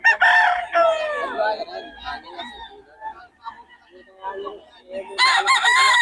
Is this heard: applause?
no